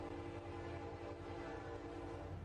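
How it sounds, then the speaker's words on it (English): A train on a railway stretch in Nuevo León, heard far off as a faint, steady drone of horn-like tones with a low rumble beneath, continuous and unchanging, with no talk over it. "an invisible ghost train that haunts this stretch of railway in Nuevo Leon"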